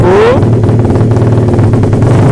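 A Suzuki Satria FU Injeksi 150 motorcycle fitted with an R9 GP exhaust revs loudly up close. It opens with a rising rev, then settles into a throaty, rumbling idle with crackling pulses throughout.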